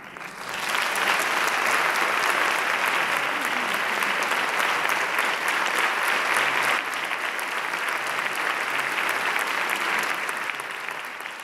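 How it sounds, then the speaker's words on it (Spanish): An audience at a stage talk event applauds steadily before the speaker begins, a sustained, dense wash of clapping from a large crowd that stays loud throughout. "Empezamos muy bien, con un aplauso antes de abrir la boca"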